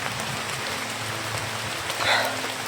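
Steady rain falls across a broad surface outdoors during a tense field chase, a constant wash of drops with a brief swell near the end and no talk over it.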